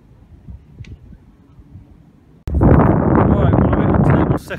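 Wind on an open golf course at Royal Ascot Golf Club: a quiet outdoor murmur, then a sudden loud, steady rush of gusting air buffeting close on the microphone for about two seconds before easing off.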